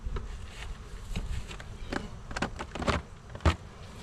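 Honey bees buzz around an opened hive of one deep and two medium boxes during an October inspection, a faint close drone with passing whines of individual bees and occasional knocks from the hive.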